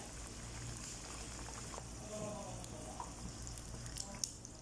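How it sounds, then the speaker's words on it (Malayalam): Chicken and vegetable samosas frying in hot oil in a pan over a low flame, giving a faint, steady sizzling hiss with a few soft crackles throughout. "എണ്ണ ചൂടാകുമ്പോൾ ഓരോ സമൂസ ഇടുക"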